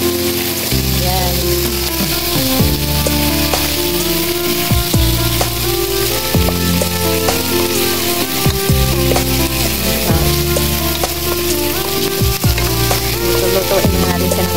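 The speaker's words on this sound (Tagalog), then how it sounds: "Naginisa muna yung isda." Fish sautéing with ginger in a hot pan gives a loud, steady sizzle throughout, with faint tonal background sound running beneath it.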